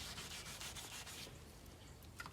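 Close-up sanding of a wooden P-Bass guitar body by hand with 1000 grit sandpaper: steady, rapid back-and-forth rubbing strokes, loud and continuous, easing slightly toward the end.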